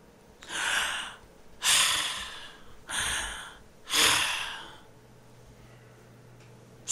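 A man imitates the loud, labored breathing of elderly people, four heavy rasping breaths with gasping inhales and exhales, close and alone with pauses between.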